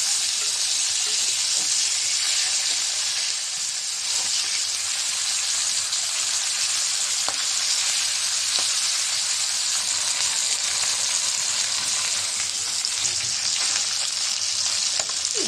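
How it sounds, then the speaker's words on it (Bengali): Fish and egg fry in hot oil seasoned with turmeric and chili, a steady, close, dense sizzle with faint crackles that continues without a break throughout. "ডিমটাও ভেজে নেব।"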